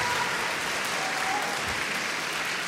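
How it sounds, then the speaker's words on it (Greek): Audience applause at a student telecommunications paper session, a dense and steady burst of clapping from a crowd that fills the whole moment. "Ένα διπλό χειροκρότημα"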